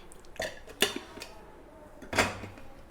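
Chopped onion pieces dropped into a plastic turbo chopper in a home kitchen give a few sharp hard clatters and knocks, close and fairly quiet, with near-silence between them.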